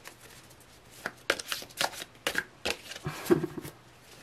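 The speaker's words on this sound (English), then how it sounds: "These are hard to shuffle." Tarot cards being shuffled by hand, a run of soft riffling bursts and slaps that come in quick irregular clusters, close and fairly quiet, with no talking.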